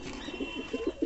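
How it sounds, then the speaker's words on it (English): A black fantail pigeon coos in a loft, a series of soft, rhythmic low hoots repeating close by. "This is black color fantail."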